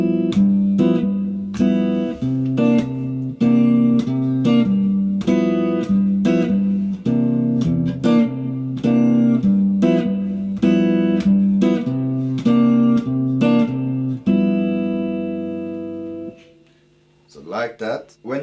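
Jazz guitar plays a steady walking bass line with short chords struck on beats 2 and 4 in a repeating duplet pattern, played alone and close, ending with a brief ringing tail and faint noise.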